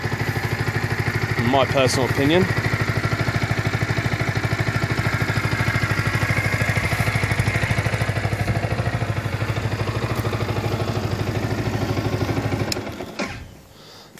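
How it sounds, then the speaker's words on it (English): A 2015 Yamaha YZF R125, a fuel-injected 125cc sport bike on its stock exhaust, idles steadily in the background under continuous talking, with a brief clattery blip early on before the engine noise cuts off near the end. "Stock exhaust sounds great"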